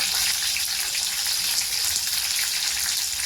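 Curry leaves dropped into hot oil along with ground garlic, giving a steady, close, bright sizzle that holds evenly throughout without any talking.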